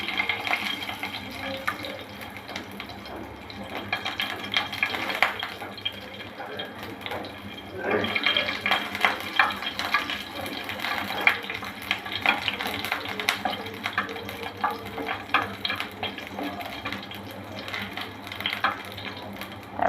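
Garlic cloves fry in hot oil for a spicy bitter gourd mash, a continuous sizzling hiss that swells louder partway through, with clattering and scraping mixed in.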